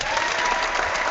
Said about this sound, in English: he gets 2 rounds of applause